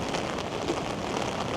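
Heavy rain pours over a city street, a steady dense hiss of drops on pavement and surfaces, constant and enveloping with no voices.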